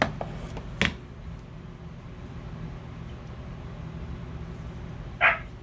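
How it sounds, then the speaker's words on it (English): A dog barks indoors, two sharp barks at the start and another single bark near the end, moderately distant over a low steady background hum. "Oh, there's my dog."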